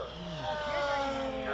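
An RC T-51 Mustang model plane's Hacker electric motor spins a 2012 propeller at about 9,000 RPM, a sustained whining buzz with a shifting pitch as it flies past outdoors.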